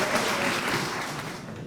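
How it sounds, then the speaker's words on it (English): Guests at a donors appreciation banquet give a warm round of applause, dense steady clapping that tapers slightly toward the end. "Let's give Dr. Hartfield a round of applause, everyone"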